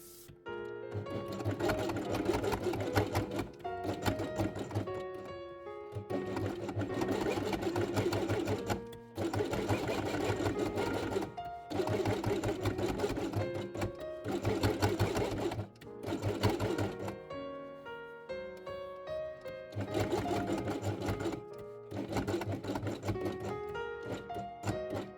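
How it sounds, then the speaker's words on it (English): A sewing machine stitches fabric pieces for a quiet book along their edges, running in repeated loud, rapid bursts of a few seconds each with brief stops between them. "On top, place heads and sew them along the edge."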